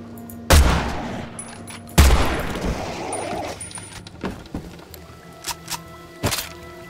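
Shotgun blasts in Evil Dead: The Game, two loud booming shots about a second and a half apart, each trailing off, followed by scattered softer clicks and a final sharp report.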